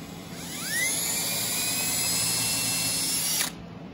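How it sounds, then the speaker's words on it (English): A small countersink bit drills into an acoustic guitar neck at a fret dot position: a power drill spins up with a rising whine, holds a steady high-pitched buzz while cutting, then stops abruptly. "we're just gonna drill wherever those fret dots are at and just center that best you can"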